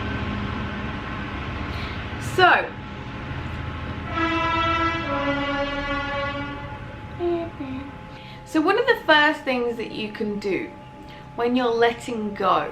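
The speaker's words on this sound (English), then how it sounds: "Sorry, that is a train." A passing train sounds its horn in long, loud blasts over steady rumbling, with a person talking through and after the horn.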